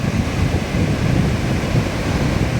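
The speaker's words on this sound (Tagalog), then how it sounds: "Ang lalaki ng alon kaya." Large ocean waves roll and crash onto a surfing beach at Sitio Boloc, Mambajao, Camiguin, a loud continuous roar heavily mixed with gusty wind buffeting the microphone.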